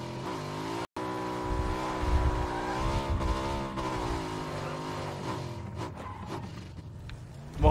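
A motorcycle climbs a rough hill in PUBG on Xbox One. The engine drones steadily up front, its pitch rising and falling with throttle, and a brief dropout comes early, before the sound grows scrappier near the end. Nobody speaks.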